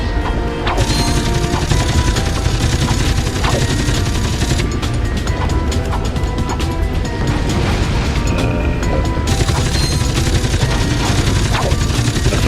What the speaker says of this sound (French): Là, je vais prendre des grenades exceptionnellement.